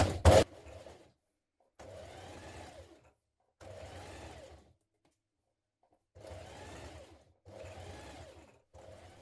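A sewing machine stitches through the thick seams of a winter coat in four separate bursts of steady whirring, each a second or two long with short pauses between, close and clear, with no talking.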